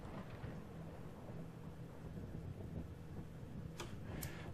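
Thunderstorm in the Minecraft video game: a low, continuous rumble of thunder with a wash of rain, and a couple of faint clicks near the end, with no speech.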